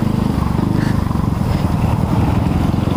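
A Yamaha Mio scooter with a faulty transmission runs close by, its engine a loud, steady, throbbing idle with a fast, even pulse throughout. No one speaks over it.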